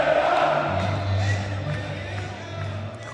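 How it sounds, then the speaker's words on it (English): A big football stadium crowd roars and cheers at full time after Aston Villa beat Bayern Munich 1-0, a sustained, distant wash of voices with whoops rising through it. "Crowd kind of amazing at the end."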